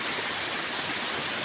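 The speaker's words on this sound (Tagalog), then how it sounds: "may natagpuan kami guys dito na magandang agos ng tubig" Flowing water from a stream in a forest, a steady broadband rush that fills the whole moment without pause, close and fairly loud with no voices over it.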